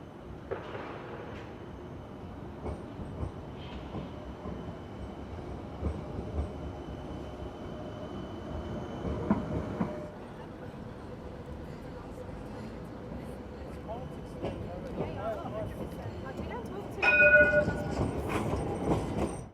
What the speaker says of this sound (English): And being a terminus, here is some double crossover action for you.